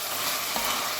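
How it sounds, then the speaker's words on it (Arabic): Carrots and onions frying in a pan for a white bean stew give a steady, dense sizzle that stays even and fairly loud for the whole second, with no voices. "راح هي تقلى"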